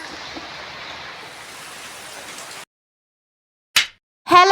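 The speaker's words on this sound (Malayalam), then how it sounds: "ഇവിടെ അത്യാവശ്യം നല്ലപോലെ മഴയുണ്ട്" Steady rain hisses for a few seconds, then cuts to silence followed by two brief, louder bursts.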